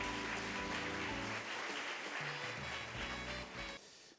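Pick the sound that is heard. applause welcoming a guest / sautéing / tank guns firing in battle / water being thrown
applause welcoming a guest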